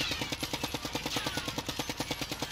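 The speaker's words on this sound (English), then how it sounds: "I'm just going to pull the trigger." Rapid full-auto bursts from an automatic rifle in Call of Duty Warzone, a fast even stream of close, punchy shots hammering out at a steady rhythm throughout.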